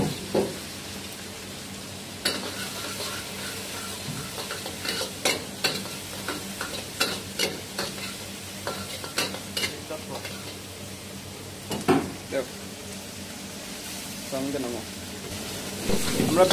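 Chicken, egg and onion sizzle in hot oil in a pan for restaurant-style chicken noodles, with a steady frying hiss broken by repeated scraping and stirring clatters; a voice talks at times.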